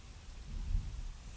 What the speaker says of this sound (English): There it is, thunderstorm.